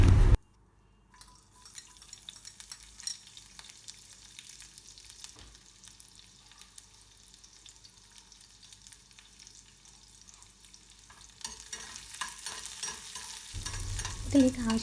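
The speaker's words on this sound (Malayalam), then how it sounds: "ഇനി ഒരു പാനിലേക്ക് കുറച്ച് എണ്ണ ഒഴിച്ചിട്ടുണ്ട് ഇതിലേക്ക് കടുക് ജീരകം വറ്റൽമുളക് ചെറുതാക്കി അരിഞ്ഞു വെച്ചിരിക്കുന്ന സവാള പച്ചമുളക് വെളുത്തുള്ളി ഇതെല്ലാം ഇട്ടൊന്ന് വഴറ്റിയെടുക്കാം" Mustard seeds, cumin, dried chilli, onion, green chilli and garlic cook in oil in a pan, a faint steady sizzle with light stirring scrapes, swelling into a louder, brighter frying hiss near the end.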